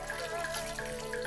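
Water is poured into a cooking pot with a steady rushing, gurgling flow that stays even from start to finish, close and moderately loud, with no talk.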